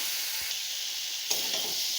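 Potato and pumpkin stir-fry with spices in a pan for a crab and pumpkin curry, giving a continuous close hiss of frying with a brief stirring scrape partway through.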